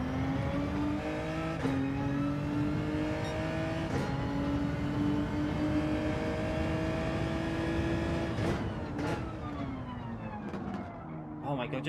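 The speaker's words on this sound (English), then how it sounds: "Don't know why I'm revving this out" A racing car engine in Gran Turismo 7 revs out steadily, its pitch climbing slowly and holding high across the whole stretch, with a couple of sharp clicks near the end and someone talking faintly over it.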